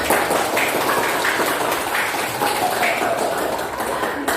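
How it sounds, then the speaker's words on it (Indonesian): A classroom of students applauds a classmate's correct answer, steady broadband clapping filling the whole few seconds at close range with children's voices and chatter mixed in. "Ya, bagus sekali. Tepuk tangan."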